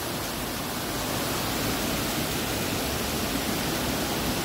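Steady, dense roar of falling water, loud and unbroken throughout, from the Saut de l'Oignin waterfall close by.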